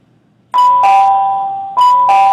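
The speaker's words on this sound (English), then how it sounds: "And there's the bell again." Electronic doorbell chiming twice, each a loud, clear two-tone ding-dong ringing out after a moment of silence, alone with no talk.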